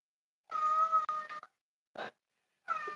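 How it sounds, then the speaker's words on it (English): A cat meows twice in drawn-out, tonal cries, followed by a short chirp in between, fairly close and clear against silence. "can you hear that? That's my cat."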